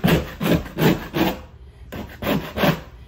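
Caulking being scraped off the top of wooden trim during a drywall patch, heard as a run of close, rhythmic rasping strokes, about six in three seconds, with a short pause midway and no talking.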